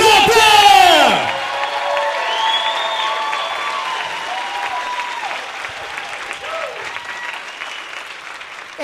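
A conference audience at a Super Saturday event applauds and cheers as a speaker is welcomed to the stage, opening with a loud burst of whoops and shouts, then settling into steady, sustained clapping.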